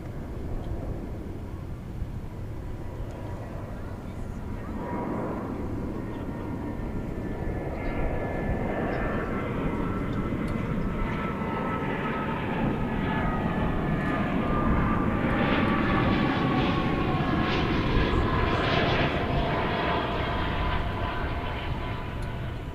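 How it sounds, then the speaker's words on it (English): Airbus A340 airliner in Star Alliance livery passing at an airport, a steady broad jet roar that swells and holds loud throughout, with a rising whine from its engines and no talk. "I really like the A340, and it's an extra treat to get to see it in the Star Alliance livery"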